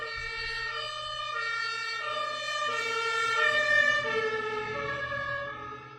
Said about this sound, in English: you will now hear the ambulance running directly underneath my freaking window